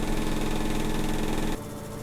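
A modern washing machine's drum whirs at a steady mechanical hum while spinning, then abruptly drops to a quieter, lower drone as it begins to slow, close by and without speech.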